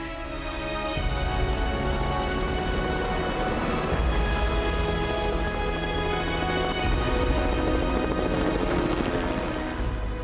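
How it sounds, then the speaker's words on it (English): A helicopter flies close by in the Southern Alps, its rotor thumping steadily in a loud, continuous drone with no talking. "The helicopter rushes Sonia and Marnie to safety."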